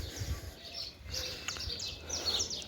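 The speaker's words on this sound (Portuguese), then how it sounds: "calor enlouquece os passarinhos" At dawn in Goiás, Brazil, several birds chirp and tweet in quick bursts at moderate distance, with a soft low rumble underneath and a faint cooing dove.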